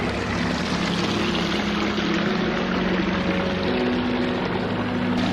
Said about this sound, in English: The waterfall spillway right up here,